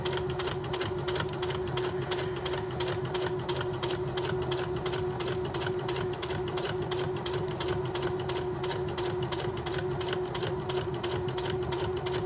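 A sewing machine runs steadily for about twelve seconds, laying a double top stitch in one continuous, even rattle of rapid needle strokes close by, with no talking.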